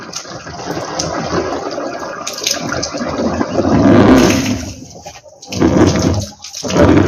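Water pours and gushes into a pesticide spray pump tank out in a maize field, a loud splashing stream that swells, dips and resumes; no speech.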